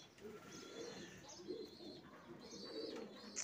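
Sevillanos pigeons coo in repeated low, soft, throaty phrases close by on a hot morning. Faint higher chirps sound in the background.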